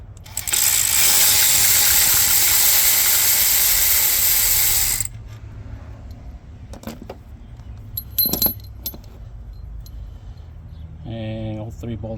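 A ratchet clicks rapidly and loudly for about four seconds as 13mm alternator bolts come out on a 2001 Ford F-250 Powerstroke diesel, followed by quieter metallic handling, a clink and brief low talk.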